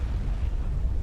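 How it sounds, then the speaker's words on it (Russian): A single deep, rumbling blast fills the moment, low and muffled, like a distant explosion, in the video game Mass Effect. "Взрыв."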